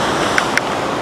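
Powerful rushing water roars loudly and continuously like heavy surf, with a steady broadband wash and two brief sharp clicks.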